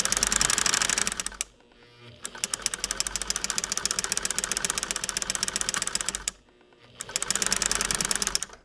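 A sewing machine with a straight stitch foot quilts a newspaper-pieced quilt, its needle running in fast, even bursts of rapid clatter separated by two short pauses.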